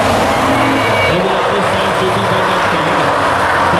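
Race cars in a feature event at Medicine Hat Speedway, heard as a loud, constant engine roar with shifting pitch from passing and accelerating cars, alongside faint announcer commentary.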